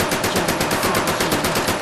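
An MP40 submachine gun fires in the Medal of Honor video game as a loud, continuous burst of rapid, evenly spaced shots close up, with no voices over it.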